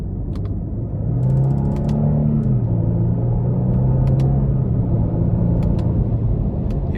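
From inside a 2024 Genesis G80 Sport Prestige with the 3.5 twin-turbo V6, the engine hums and rises as the car pulls hard, a steady cabin drone climbing in pitch with faint clicks and road noise.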